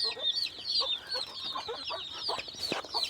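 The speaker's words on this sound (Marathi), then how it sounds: "ही पण एक कोंबडी आपण 19 अंड्यावर बसवलेली आहे आणि ही 16 अंड्यावर बसवलेली आहे" Country hens brooding on clutches of eggs cluck continuously and fairly close by, with several birds making overlapping soft calls and one sharper squawk near the end.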